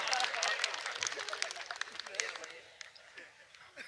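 An audience applauding at a comedy event, with a burst of clapping that fades over a few seconds and a voice speaking beneath it.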